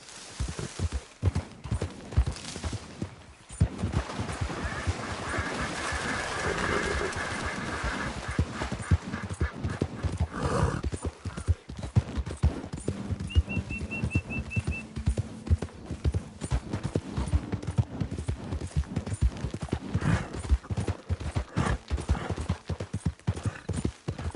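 A horse in Red Dead Redemption 2 gallops with steady, driving clip-clop hoofbeats that run close and loud through the whole stretch, with a brief whinny and faint rider chatter mixed in.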